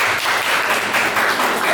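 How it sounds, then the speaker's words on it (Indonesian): Students in a classroom burst into brief, dense applause, many hands clapping together loudly for under two seconds. "kita beri tepuk tangan untuk kita."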